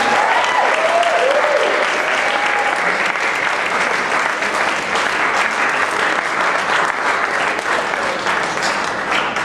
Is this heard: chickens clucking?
no